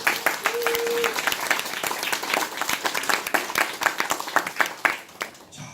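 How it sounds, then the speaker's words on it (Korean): Audience applause at a Korean family-management lecture, dense irregular clapping from a crowd that runs steadily for several seconds and tapers near the end, with a brief voice or tone early on. "이렇게 훌륭한 우리 가정경영자 남편들을 위해서 박수 한번 주십시오"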